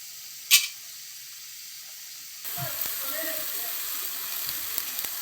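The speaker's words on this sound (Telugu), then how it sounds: "చింతపండు పులుసు పోసుకోండి." Tamarind juice hitting a pan of simmering pumpkin pulusu: a short sharp splash, then after a pause a steady close hiss and sizzle with faint bubbling that continues to the end.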